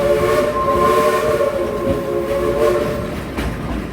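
A theme park train's steam whistle blows in long sustained tones, loud and close, with a rumble of the moving train underneath and a brief break between toots.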